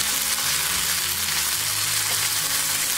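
Eggplant pieces frying in a pan for vangi bath, a loud, dense, continuous sizzle heard up close, with no talking.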